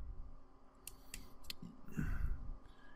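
Several sharp snips as the coil wire leads are trimmed on a Muramasa RTA rebuildable atomizer, about four close, crisp cuts spaced through a few seconds with soft handling noise around them.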